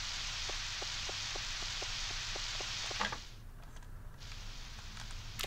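Rain falls in the Nintendo 64 farming game Harvest Moon 64, a steady synthetic hiss with regular soft ticks of drops that thins out partway through, with no voices.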